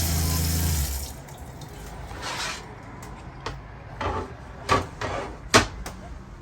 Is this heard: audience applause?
no